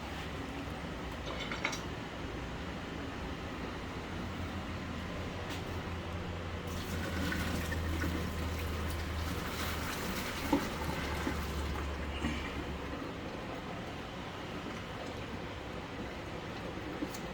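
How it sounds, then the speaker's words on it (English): Boiling water pours and splashes out of a pot in a steady rush for several seconds over a low background hum. "Now that it's boiling, I'm going to take it and I'm going to pour the water out."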